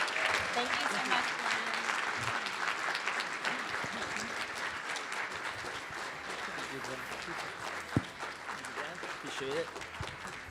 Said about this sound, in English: let's give Glenn a round of applause.